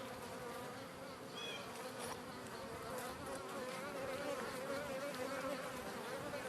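Bees droning steadily around a newly set up beehive, a dense continuous buzz with occasional single insects passing closer.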